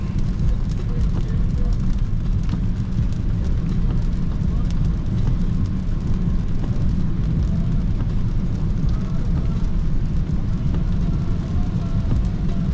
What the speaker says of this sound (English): I'm actually glad it's raining because the weather has been so hot lately.